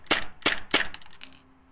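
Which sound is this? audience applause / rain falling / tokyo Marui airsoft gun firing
tokyo Marui airsoft gun firing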